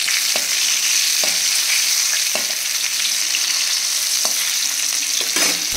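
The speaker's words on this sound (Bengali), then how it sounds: "এখানে এখন ভাজা হচ্ছে মাছ" Fish frying in a pan, giving a continuous loud, close sizzle broken by occasional soft clicks and stirs, with no voices.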